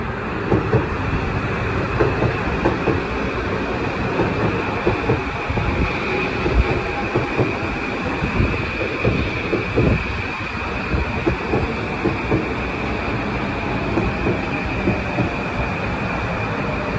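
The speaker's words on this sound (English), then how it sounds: "here comes this train" A Metro-North New Haven Line commuter train arrives at Larchmont station, rumbling loudly and steadily very close by, with clattering wheels and a faint high metallic whine running throughout.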